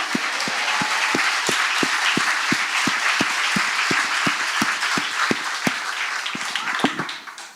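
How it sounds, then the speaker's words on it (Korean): A large church congregation at a revival meeting claps in steady rhythmic unison, sustained beats rising over a broad wash of applause before it tapers off at the end. "하나님만 우리의 박수를 받으시기 합당하신 분이십니다"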